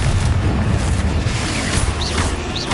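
A Confringo spell blast in a Harry Potter video game, a loud, dense booming explosion that fills the whole stretch with a continuous roar and no voices.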